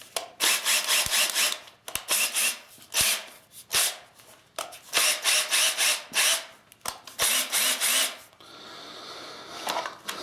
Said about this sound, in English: So that's basically a test fire of the drill.